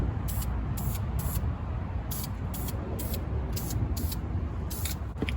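Short hissing bursts of spray paint on a car's brake calipers on the driver's side, repeated in quick clusters of two or three over a steady low background rumble.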